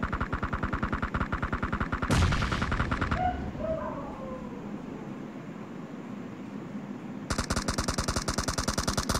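Automatic gunfire rattles in rapid bursts on the Sanhok map in PUBG Mobile. A sharp burst and a short lull of quieter noise are followed by another long, loud volley.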